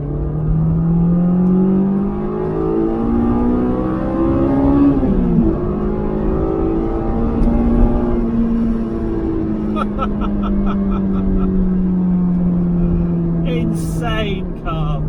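A sports car accelerates hard, its engine revving in long rising sweeps with a brief dip at each gear change, loud and close from inside the cabin, and a voice speaks at the end.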